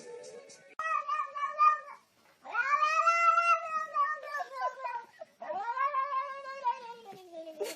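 A cat meows and caterwauls up close in a series of long, drawn-out yowls with short pauses between them, loud and alone.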